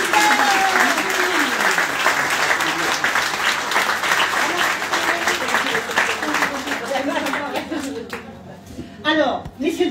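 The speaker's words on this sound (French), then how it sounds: "On applaudit notre belle." An audience at a conference claps loudly to welcome a speaker, with steady applause that fades toward the end while voices and some laughter come through.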